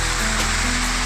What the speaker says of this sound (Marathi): किती खालून हा धबधबा येतो आहे तिथे